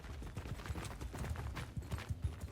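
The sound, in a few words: horse hooves clip-clopping in video game Mount & Blade II Bannerlord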